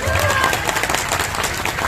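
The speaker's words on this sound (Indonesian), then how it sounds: "Tepuk tangan untuk Pak Banser nih." Audience applause at a rokat desa village religious gathering, a brief steady wash of clapping from a crowd with voices mixed in.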